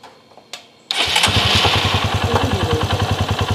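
After a couple of faint clicks, a Honda CB Verza motorcycle with a hesitating, stuttering throttle fault cranks and catches, then settles into a loud, close, evenly pulsing single-cylinder idle.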